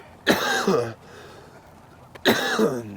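Two deliberate, forced coughs close to the microphone, about two seconds apart, with quiet in between.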